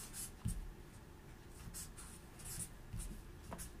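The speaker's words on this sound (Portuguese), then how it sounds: "Vou até escrever aqui." Pen writing by hand on paper, marking out the word Jerusalem: soft, close scratching strokes with a few sharper taps and lifts, steady and quiet against faint room noise, no speech.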